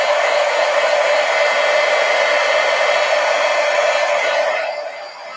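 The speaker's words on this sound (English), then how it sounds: "Let me dry this with a heat gun." Heat gun drying ink on a lion fish poster, blowing a loud, steady rushing whoosh from close by that eases down as it is switched off.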